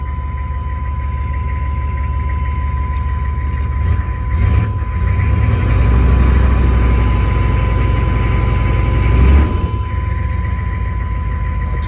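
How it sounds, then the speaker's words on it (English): Diesel engine of an old farm-find repo truck running with its turbo spooling, a loud steady low rumble that surges twice in revs and carries a rising whistle, no talking. "The turbo's spooling nicely."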